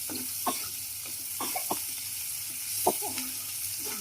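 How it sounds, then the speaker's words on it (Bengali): Chicken meat sautéing with chillies in a pan for biryani, a soft continuous sizzle broken by several sharp spatula clinks and scrapes at irregular intervals, no talking. "গোস্ত গুলাকে আমরা কষায় নেব আবার একদম ভাজলাম এখন গোস্ত কষাবো"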